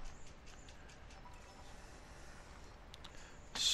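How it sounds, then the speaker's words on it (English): A Brother printer running a test page, with faint, steady mechanical whirring and a few soft clicks, ending in a louder burst as the sheet feeds through. "And now my printer is printing out."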